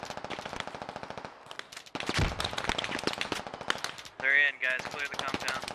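Automatic gunfire in the video game Squad, rapid bursts of close shots repeating through the clip, with a brief pause, then more fire and a short tonal blare near the end.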